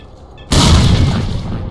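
Grenade blast in the shooter STALKER Call of Pripyat: one sudden loud boom after a quiet moment, followed by a long rumbling decay.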